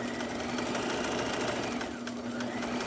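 A sewing machine back stitches fabric for a baby boy's outfit, its steady motor whir running continuously and close at hand without pause.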